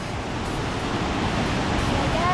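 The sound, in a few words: waterfall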